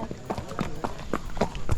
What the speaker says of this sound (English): So many horses there.